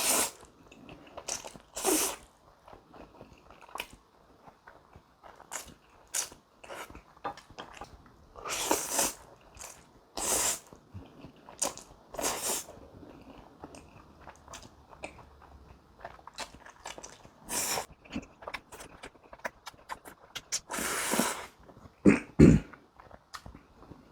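Someone eats jjajang instant ramen noodles in a mukbang, with scattered slurps, bites and mouth noises coming in bursts between quiet stretches, close and alone.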